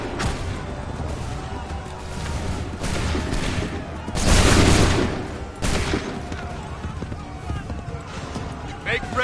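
Musket volley fire in Assassin's Creed 3 Remastered, a loud massed crash of shots near the middle over a busy battlefield din, with shouted commands and hoof-like clatter around it.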